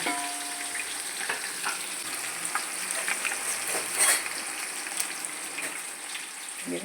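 Onions frying in a pan for biryani in a home kitchen in Erode, a steady close crackling sizzle with brief stirring scrapes, heard alone.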